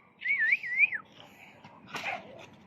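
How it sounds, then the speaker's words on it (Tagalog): A person whistles a wavering, rising-and-falling tune to call the wind while flying a kite outdoors, then gives a second, shorter whistle, both fairly faint against quiet background noise. "Sipol lang ay pagka walang hangin, sipol lang"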